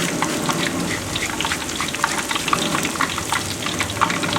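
Banana chips frying in hot oil, a steady dense crackling sizzle heard up close and continuously, with no talk over it.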